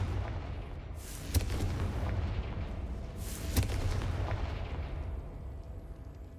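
A Confringo blasting spell explodes in a video game with two heavy booms a couple of seconds apart, each trailing into a rumbling wash of debris that gradually fades.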